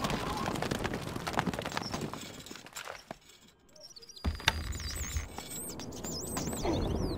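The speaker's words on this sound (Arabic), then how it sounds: "نحن خيولنا الحصان سريع." Horse galloping in the Stronghold Crusader strategy game, a fast rolling hoof patter among busy game sounds, birdsong and a brief lull, with faint talk.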